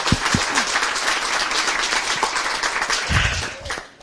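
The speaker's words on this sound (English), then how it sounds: "So, clap for them." A crowd at the 2024 Nancy Murray Cup final, Mayo against Wicklow, claps for the team staff, dense applause with a few cheers that tails off near the end.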